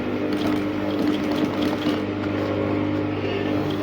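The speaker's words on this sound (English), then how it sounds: "So I'll place it under the machine, and then I'm going to sew." A sewing machine stitches boning onto bust caging for a bustier dress, running as a steady, continuous mechanical whirr with a low motor hum, close and fairly loud throughout.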